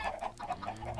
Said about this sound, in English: So you get chickens, of course,